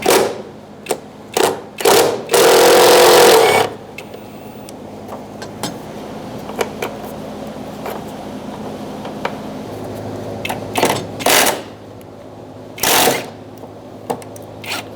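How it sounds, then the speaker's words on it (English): A ratchet with a 10mm socket and extension works a bolt loose under a 2002-2006 Toyota Camry during a fuel tank replacement, with close bursts of rapid clicking separated by short pauses and sharp knocks. "I'm going to remove this one as well using a 10mm socket and an extension."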